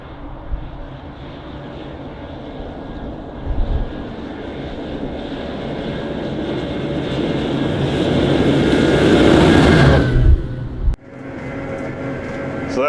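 A Deutz Fahr 7250 TTV Warrior tractor drives at speed, its engine and drivetrain droning in a steady roar that builds louder over several seconds before dropping abruptly, then settling back into a steady run.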